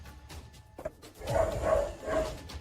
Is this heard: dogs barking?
yes